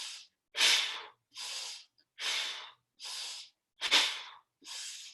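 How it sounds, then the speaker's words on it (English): Seven deep, slow breaths drawn in through the nose and let out through the mouth, each one a close, airy rush separated by short silences, with no talking. "we're going to do our 5 deep breaths, in through the nose, out through the mouth"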